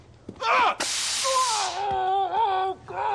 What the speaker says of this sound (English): It's loaded with pepper spray